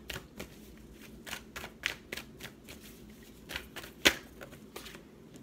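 Tarot cards are shuffled and drawn by hand in a quiet room, giving a string of soft papery flicks and riffles with one sharper snap near the end, close and fairly faint, with no talking.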